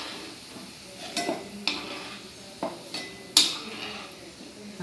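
Metal utensil scraping and clinking against a frying pan while fried spiced potato pieces are lifted out, with a few distinct clanks spaced over a low sizzle of hot oil, close by and with no talk.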